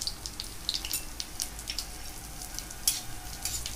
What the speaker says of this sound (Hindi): घी में जीरा और कलौंजी हम ऐड कर रहे हैं